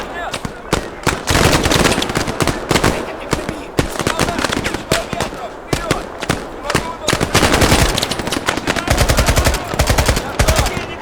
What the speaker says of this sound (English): Enemy machine gunner. Over there, that way.